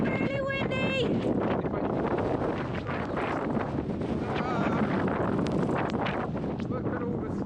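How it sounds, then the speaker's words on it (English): Strong, steady wind buffets the microphone with a constant roaring rumble, and a voice briefly cries out at the start. "It's pretty windy! It's really windy!"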